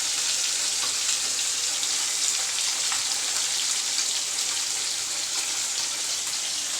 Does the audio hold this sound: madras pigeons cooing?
no